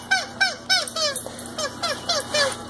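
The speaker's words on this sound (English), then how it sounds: "She loves this Kong Squeaky." Repeated squeaks of a Kong Squeaky dog toy being chewed by a dog, about eight or nine sharp rising-falling chirps in an uneven rhythm, close and fairly loud.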